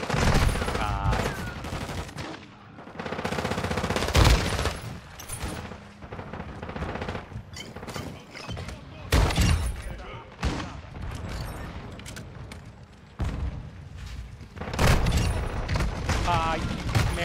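Dense, rapid gunfire and explosions from the video game Call of Duty Modern Warfare 2, including Lockwood 300 shotgun blasts, loud and continuous, with someone talking excitedly over the shooting.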